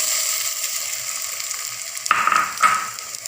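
Chopped banana pieces drop into a hot frying pan, giving a steady soft sizzle that flares into louder crackling and hissing bursts as the fruit lands and is stirred.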